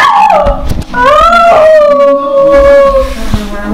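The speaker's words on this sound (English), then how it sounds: "We've got singing dogs." Pet dogs howl together in a long, wavering, high-pitched chorus, loud and close, with rising and falling yips and whimpers mixed in.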